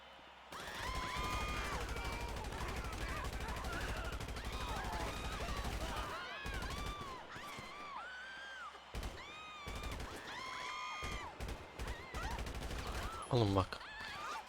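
Gun combat in a video game sounds as dense, continuous volleys of gunfire crackling over the action for several seconds, then thins into scattered shots and impacts, with voices heard now and then.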